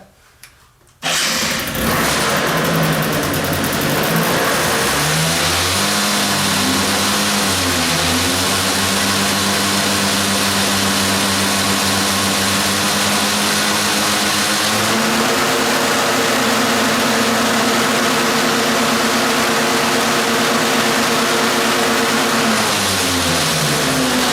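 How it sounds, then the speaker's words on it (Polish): An Aldy Silver 2T engine with a charging fault cranks and catches, then runs loud and steady, its pitch rising and falling a few times as it revs before settling back to idle. "uruchamiamy silnik, zobaczymy jak go z ładowaniem będzie."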